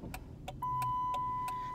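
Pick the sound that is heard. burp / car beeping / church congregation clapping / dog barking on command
car beeping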